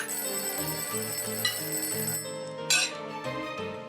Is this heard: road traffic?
no